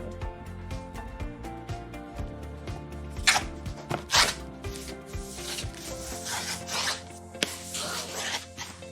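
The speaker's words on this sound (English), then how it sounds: "Now it's time to apply the laminate to the face of the panel." A laminate sheet is laid onto and positioned over a panel face, making soft rubbing and sliding sounds with a couple of sharper scrapes. Faint background music plays under it.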